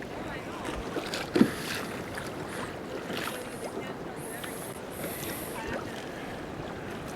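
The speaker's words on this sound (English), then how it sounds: "It wasn't supposed to be this windy." Strong wind on the water during kayak fishing buffets and roars steadily across the whole stretch, with a brief knock early on and faint whistling gusts higher up.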